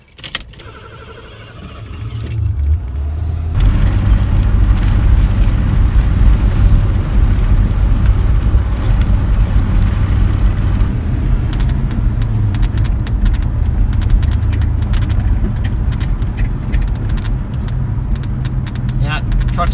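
A pickup truck with a freshly replaced fuel filter idles after a rough jangle of keys, then drives off on a test run, its engine and road noise a steady loud drone with a person talking over it.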